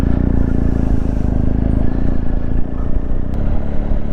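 A BMW motorcycle pulls away on a wet road on brand new tyres, its engine a loud, close, steady rumble with road hiss and slight clatter running throughout.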